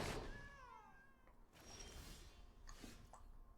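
A cat meows a few times up close in a quiet room, short rising and falling cries over the first second or so, followed by softer rustling and faint background noise.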